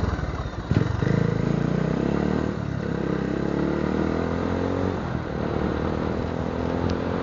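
A KTM motorcycle engine in Baguio City, idling and revving at moderate distance with a brief louder blip early on, then a steady mid-pitched running note with some clatter.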